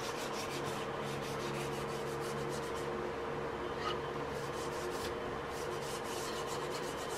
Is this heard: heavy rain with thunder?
no